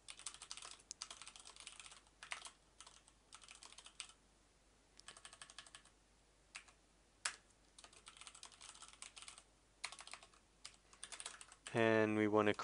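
Bursts of quick clicky keystrokes on a computer keyboard while code is typed, coming in irregular runs separated by pauses, close and fairly quiet, with a louder clattering burst at the very end.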